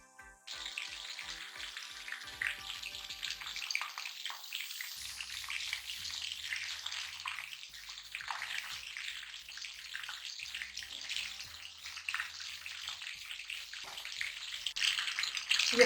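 Chicken wings frying in hot oil in a kadai, a steady loud crackling sizzle that starts abruptly and bubbles continuously throughout, with some faint clinking at the start.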